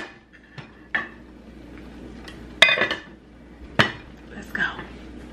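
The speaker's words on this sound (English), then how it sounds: "All right, so lid back on." A metal lid being set back onto a pot of braising oxtails, several sharp clanks and clinks scattered over a few seconds against a quiet kitchen background.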